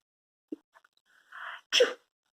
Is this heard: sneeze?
yes